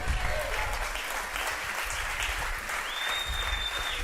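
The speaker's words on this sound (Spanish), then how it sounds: "Aleluya, denle un aplauso al Señor." Steady applause from a church congregation fills the space, dense and sustained throughout, with a faint high tone gliding in near the end.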